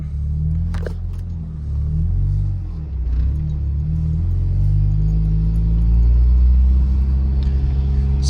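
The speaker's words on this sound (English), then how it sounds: "Just gonna drive around a bit." Mazda RX8 with an aftermarket shifter driving along, heard from inside the cabin as a steady loud low engine rumble and road drone with mild swells in revving, no talking.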